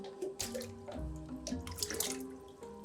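Water runs from a tap into a small bucket for a bucket bath in Pakistan, a steady, close splashing and gurgling that carries on throughout with no voices.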